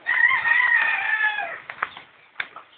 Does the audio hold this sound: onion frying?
no